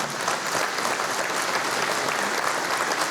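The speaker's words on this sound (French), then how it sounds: "je vous demande de bien vouloir les applaudir" Sustained audience applause at a military air base ceremony marking forty years of Mirage 2000 service, dense steady clapping from a large crowd, loud and even throughout with no voices above it.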